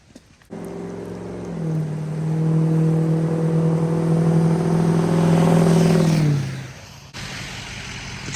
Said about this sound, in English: The truck's doing really good towing.